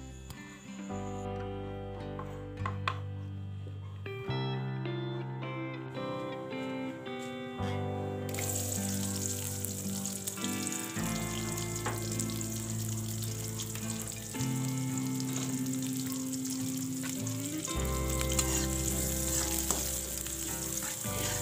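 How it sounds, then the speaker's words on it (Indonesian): Shallots and garlic frying in hot oil at home, a steady close sizzle and crackle running throughout with occasional stirring, layered under background music. "Ini untuk goreng bawang merah sama bawang putihnya juga sampai harum ya teman-teman, sampai mateng gitu."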